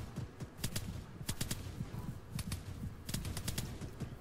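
Distant gunfire in Arma 3 crackles in short bursts of sharp, rapid shots, fairly faint against a busy low rumble.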